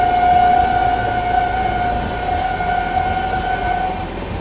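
Long passenger train on an Indian railway line: a loud, steady rolling rumble with a sustained horn-like tone running through the whole clip, close and continuous.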